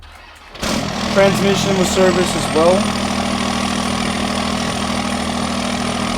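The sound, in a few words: Cummins diesel truck engine starting and idling, Farming Simulator 22 video game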